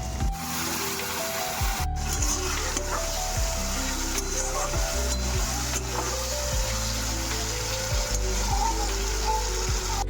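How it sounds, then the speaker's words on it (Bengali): Spices frying in a pan while being stirred to cook off their raw smell, a steady close sizzle with scraping stirs throughout. "ভালো করে মশলাটা প্রথমে কষিয়ে নিতে হবে, কাঁচা গন্ধটা যাতে চলে যায়"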